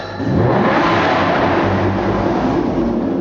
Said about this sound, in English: It turned out that all three cars were equally loud.